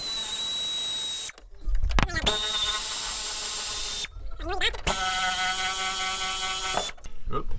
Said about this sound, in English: I got my trusty air ratchet here. He's gonna do the rest of the job